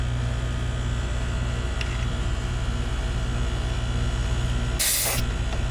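Refrigerant bursts out in a short, sharp hiss of spray as the core is released on a residential AC coil. It cuts through a steady background hum and lasts about half a second near the end.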